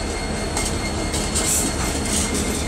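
A BNSF freight train idles slowly through Effingham, Illinois, with a continuous close rumble and the clatter of wheels on rail, and no talking.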